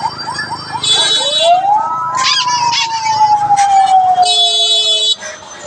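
An ambulance siren parked near Charpara hospital by a bus stand wails loudly and close, a rising and falling electronic tone with warbling pulses, over street noise, then cuts off abruptly near the end.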